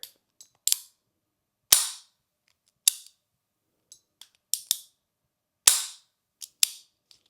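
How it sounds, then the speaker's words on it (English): A snub nose revolver dry fired, with crisp clicks of the trigger pull and the hammer falling, repeated in irregular bursts and spaced apart by silence, close and clean with no talking. "There's a definite wall, and then it fires, and then a definite reset."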